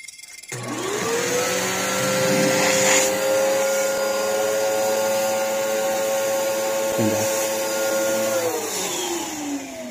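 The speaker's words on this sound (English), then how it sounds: "We're going to put the vacuum to it and see if it works." A steady vacuum motor whine runs continuously from start to nearly the end while testing an Eggtimer Quantum rocket altimeter, with a rising tone at startup and a falling tone as it winds down.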